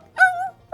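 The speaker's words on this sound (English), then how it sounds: "you hear it yelp." A dog yelps as it is knocked off its legs and falls onto its side on the ground. It gives one sharp, close whining cry that rises and holds briefly, then a second yelp starts just as the first fades.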